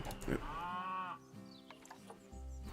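A cow moo plays from the Cosmic Cow food vending machine in the zoo-building game Planet Zoo. One long, drawn-out moo, clear and fairly close, is followed by quieter mechanical and ambient game sounds.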